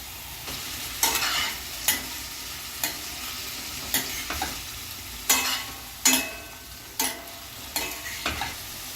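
Paneer cubes frying in hot oil in a pan are turned over, with a soft continuous sizzle punctuated by about ten sharp scraping strokes of a utensil at irregular intervals.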